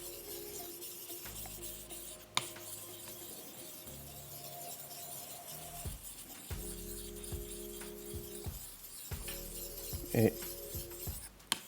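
A blade is worked over a wet 8K whetstone in repeated scraping, rasping strokes separated by short pauses, quiet and close, with a few faint words spoken between strokes.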